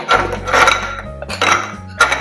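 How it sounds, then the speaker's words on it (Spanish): Ice cubes clatter and clink into a glass while an Old Fashioned cocktail is built, with several loud rattling bursts close by and no talking. "Agregamos hielo"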